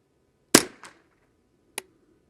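A Ruger 10/22 semi-automatic rifle with a custom build fires Exakt .22 LR ammunition in a single sharp, close report with a brief echoing tail, followed by another sharp shot about a second later.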